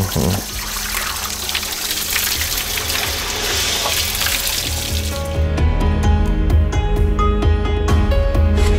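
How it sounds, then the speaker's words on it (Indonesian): Water poured and splashing onto smoking ground, a steady rushing trickle that grows into a fuller, heavier gush partway through, close and fairly loud with no talk. "tolong siram air, Pak."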